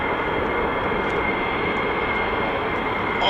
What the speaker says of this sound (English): it's a Raptor coming as well